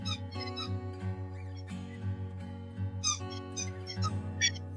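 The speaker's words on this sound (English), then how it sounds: "Squeaky toys." Squeaky toys give repeated high, tonal squeaks over a steady humming background, several short bursts in an irregular rhythm, close and clear with no talking.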